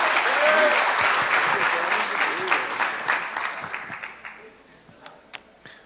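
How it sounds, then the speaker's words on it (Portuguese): Church congregation applauding for a visiting pastor, dense clapping that starts full and loud, then thins and fades over several seconds into a few scattered claps, with voices mixed in. "Aplaudir ao Senhor pela vida do servo de Deus"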